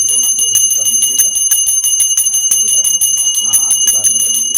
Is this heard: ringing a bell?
yes